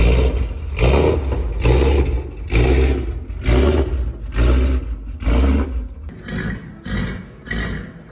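A Ford Mustang V8 with a cam revs hard in loud, rhythmic bursts, roughly eight surges with brief dips between, close and alone with no talk.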